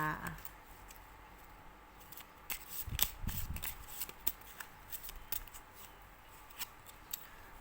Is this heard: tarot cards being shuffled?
yes